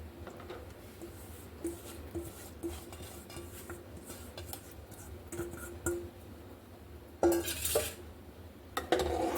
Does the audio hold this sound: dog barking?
no